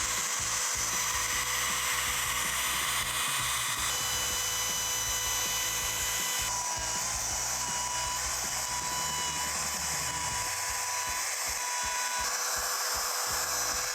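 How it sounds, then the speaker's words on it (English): A small router cuts into a guitar body following a template. It gives a continuous high whine with grinding, chattering bite as it works through the wood, loud and close, with pitch shifts as the load changes. "This is kind of a smaller router. Normally I use a bigger router, but it's what I'm working with today."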